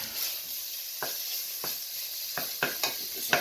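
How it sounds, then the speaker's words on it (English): Bacon and chicken brown in a pan with a steady sizzle while a stiff spatula scrapes the bottom in several short, sharp strokes, close and clear with no talk. "you want to be able to scrape off the brown bits in the bottom once the bacon's been browned and the chicken's been browned in here"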